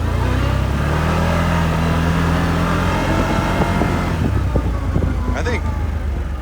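A 2024 CFMoto CForce 1000 Touring ATV in work mode rolls along under steady, close engine drone with low rumble, easing off near the end as some rattles and a brief squeak come through.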